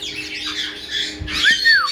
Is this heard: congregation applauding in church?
no